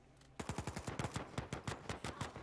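A steady automatic gun firing in Uncharted 4 online multiplayer, a fast even rattle of a dozen-plus sharp shots starting after a brief quiet moment, clear and fairly close with no talk.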